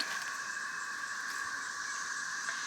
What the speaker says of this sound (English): That's the cicadas.